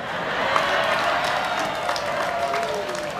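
An audience at an Indonesian Islamic sermon claps with crowd noise, a moderate, steady rumble of hands with voices mingled in.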